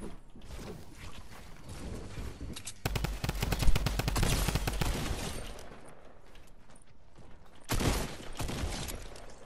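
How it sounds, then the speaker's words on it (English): Rapid automatic drum gun fire in the Fortnite video game, a dense rattling burst of many shots that swells loud in the middle and returns in a short sharp burst near the end, over game noise. "He has a drum gun."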